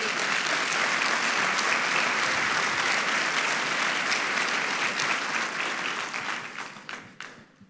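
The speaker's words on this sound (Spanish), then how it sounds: "en un fuerte aplauso" A church congregation breaks into strong, dense clapping during a sermon, holding full volume for several seconds before thinning out and fading to a few last claps.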